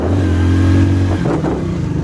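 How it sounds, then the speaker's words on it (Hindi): A motorbike engine strains loudly in first gear while climbing a very steep road near Lal Tibba in Mussoorie, a heavy, droning labour that holds steady and then shifts pitch as the revs change, close and continuous. "हमारी बाइक के बाजे बज रहे हैं, पहले गियर पे ले जानी पड़ रही है।"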